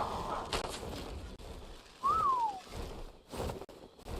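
A single bird call in the video game Ark, a short rising-then-falling whistle sounding clearly over a low ambient game backdrop with scattered noise bursts.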